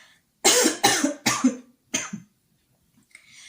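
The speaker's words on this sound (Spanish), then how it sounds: "es que me entra la tos" A fit of coughing: four harsh, loud coughs in quick succession, close up, followed by a brief quiet rasp.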